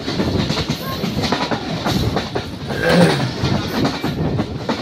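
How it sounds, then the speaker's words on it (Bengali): A train approaching the Hardinge Bridge at Paksey rumbles steadily along the rails, with a rhythmic clatter of wheels over joints under a constant roar. "আমাদের ট্রেনটি কিছুক্ষণের মধ্যেই পাকশি হার্ডিং ব্রিজের প্রবেশ করবে"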